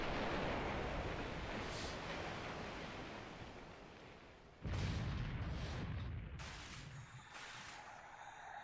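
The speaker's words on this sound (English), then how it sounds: "You're hitting it repeatedly with your 5-inch gun" A 5-inch naval gun firing repeatedly at a sinking ship in War in the Pacific: dense, roaring blasts give way to a fresh, louder burst of firing with several sharp cracks, with no talk over it.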